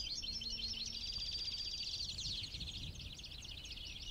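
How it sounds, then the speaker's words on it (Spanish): A male European greenfinch calls outdoors at Matalascañas, a steady run of rapid high twittering notes carrying on without pause, fairly clear against faint low background rumble. "Ahí viene un verdón macho, está dando la vuelta."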